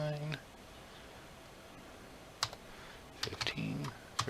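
Light clicks of typing on a computer keyboard, a few sparse keystrokes followed by a short quick cluster, faint and close, with a brief bit of speech at the start and near the end.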